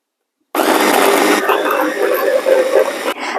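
Food processor whirring as it mixes crumble for an apricot pie, a loud steady motor drone starting abruptly after a silent moment and shifting pitch partway through.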